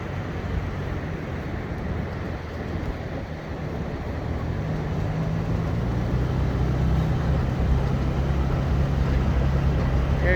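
A Toyota Tacoma TRD Pro rolls along a sand ridge on the beach at Assateague Island, a steady low engine rumble blended with wind-like roar that carries on unbroken and grows slightly heavier partway through.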